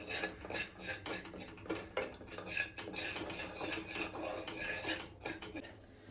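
A utensil scrapes and clinks against a pan while Maggi masala is mixed into cooking Maggi noodles, in steady close stirring strokes with no talking.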